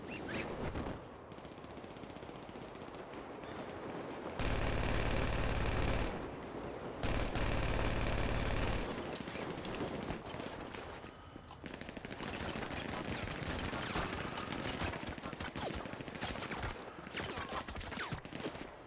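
Gunfire in the GTA Online video game, dense automatic bursts that hit the player, loud and sustained in blocks over a steady game soundscape.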